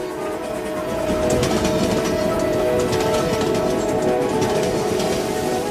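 A steam train of the Nilgiri Mountain Railway rumbles steadily along the steep mountain rails with rhythmic clatter and a faint whistle tone, close and loud, without any voices.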